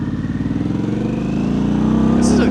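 A 2025 Harley-Davidson Pan America ST motorcycle being ridden around Raleigh, its engine pulsing with a rapid throb and rising steadily in pitch and loudness as it accelerates, close and prominent.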